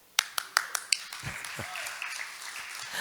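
A single person claps five or six sharp, evenly spaced times in a fairly quiet room at a Sunday feast gathering, then the claps stop and a low voice and faint room sounds follow.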